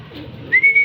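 Young pigeons in a loft give a short, close coo and a thin rising whistle-like call lasting under a second, with a faint low murmur beneath.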